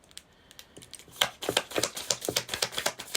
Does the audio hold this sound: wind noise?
no